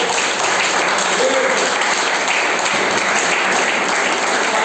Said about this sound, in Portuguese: As palmas exaltam o Senhor